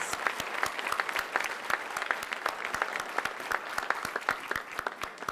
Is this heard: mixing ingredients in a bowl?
no